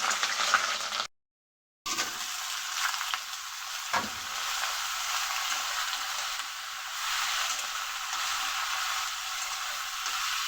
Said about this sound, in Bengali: এদিকে কড়াটা বসিয়ে দিয়েছি, দিয়ে আগে এঁচড়গুলোকে ভালো করে ভেজে নিই।